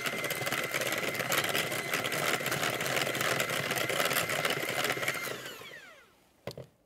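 An electric hand mixer beats an egg into banana cake batter for an old 1930 iced banana cake recipe, running as a steady, loud, close whir for about five seconds before winding down and stopping, followed by a brief clatter.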